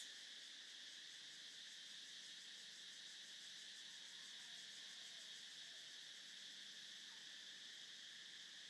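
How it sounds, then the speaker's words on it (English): A dense, continuous chorus of cicadas in a jungle fills the air, steady and shimmering, with faint rustling and distant calls underneath. "you might hear some ebb and flow of the cicadas creating their song."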